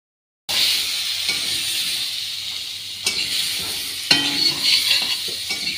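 Vegetables such as pointed gourd frying in a pan, a steady close sizzle with a few sharper bursts as pieces are moved, with no talk over it.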